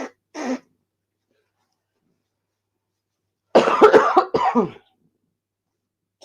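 Two separate bursts of coughing break an otherwise silent room, a short cough first, then a longer, harsher fit of several chesty coughs a few seconds later.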